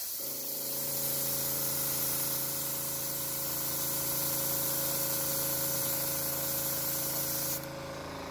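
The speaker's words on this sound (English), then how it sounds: "And you see, the more you spray on it, the globber it gets." Walmart spray paint hissing from an aerosol can in one long, steady, loud burst close to the listener, cutting off abruptly near the end.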